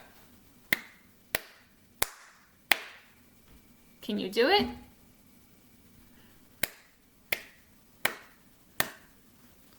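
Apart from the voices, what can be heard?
hands clapping a rhythm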